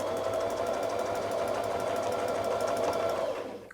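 A sewing machine runs steadily at close range for several seconds while stitching during ruler-work quilting, its fast needle clatter continuous and even before easing off at the very end.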